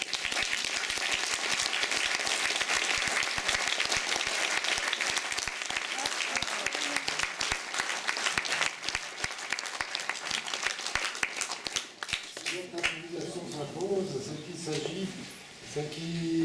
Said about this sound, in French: peut aussi applaudir encore une fois les personnes des GEM et vous